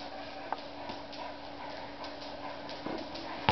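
A dog pants steadily nearby with a few soft yips and whimpers during backyard ball play, the breathing continuous and fairly close with little other sound.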